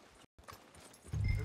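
Horse hooves clop softly in Red Dead Redemption 2, a brief run of light, close steps ending in a louder low rumble, with no voices.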